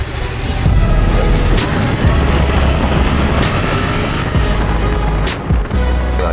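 A 700cc motorcycle rides off on the road, its engine a loud, steady roar with wind rush that holds throughout, with no speech over it.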